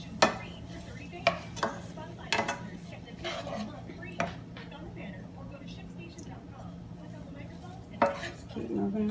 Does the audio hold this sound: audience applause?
no